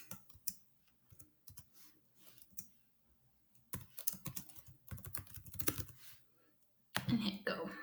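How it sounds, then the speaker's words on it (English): A name typed on a computer keyboard: clusters of quick, close key clicks in irregular bursts, with a louder run of keystrokes near the end and soft speech-like sounds mixed in. "you're going to want to type in your name and then hit continue"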